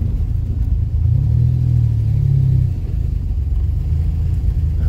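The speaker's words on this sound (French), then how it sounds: "Ralenti un tout petit peu trop haut." An Alpine GT engine idles slightly too high after a full restoration, giving a loud, steady low rumble close by with a brief rise in pitch in the middle, and no talk.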